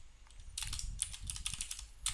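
Rapid keystrokes on a computer keyboard during a Salesforce tutorial, a quick irregular patter of clicks, fairly close but quiet, with no talking.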